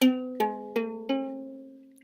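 Four plucked ukulele strums in quick succession, each ringing out and decaying, the notes sounding sour and out of tune together.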